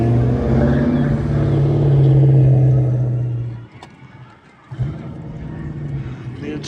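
A mid-1970s Corvette rolls past with a deep, loud engine rumble that holds steady, then cuts off abruptly and returns as a softer drone, close and alone without talk.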